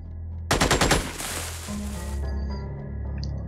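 Soldiers firing guns in the turn-based strategy game Xenonauts: a rapid burst of about six sharp shots, loud and close, followed by a lingering rumbling tail and ambient game tones.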